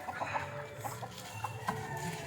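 Native country chickens clucking steadily at a moderate distance, with short repeated clucks over a constant background hum.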